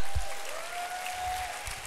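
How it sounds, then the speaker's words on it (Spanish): A church audience applauds in a soft, diffuse wash, moderately distant and fairly quiet, with no one speaking over it. "Un aplauso para ella."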